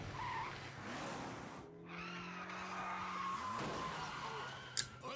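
A car in the video game Yakuza 0 skids with a long tire squeal over a revving engine, ending in a sharp impact.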